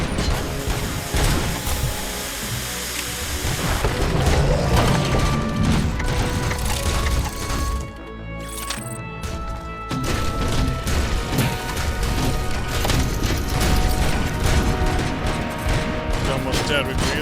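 Gunshots ring out in the video game RoboCop: Rogue City among heavy mechanical clanks, crashes and game music, a dense loud barrage that briefly dips before resuming.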